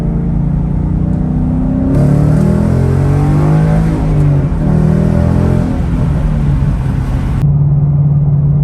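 A 2015 Ford Mustang GT V8 accelerates up to highway speed, a loud close engine drone rising in pitch through the gears over steady road and wind noise inside the cabin, with no talking.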